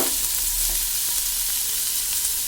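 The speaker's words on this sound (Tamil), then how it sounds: "நம்ம நறுக்கி வச்சிருக்க சின்ன வெங்காயத்தை சேர்த்துக்கலாம்." Steady, loud sizzling of shallots frying in hot sesame oil, a continuous crackle close up with no voices.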